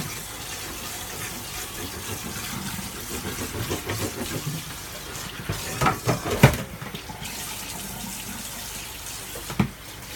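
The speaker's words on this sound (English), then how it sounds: "I'm going to wash out my pan because I'm now done with it." Water runs steadily into a sink while a pan is rinsed, with a few sharp clanks of metal against the basin.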